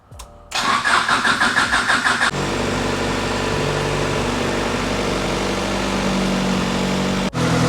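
A starter motor cranks rapidly for a couple of seconds, then a 1992 Honda Civic VX engine with an HKS exhaust catches and settles into a loud, steady idle before cutting briefly.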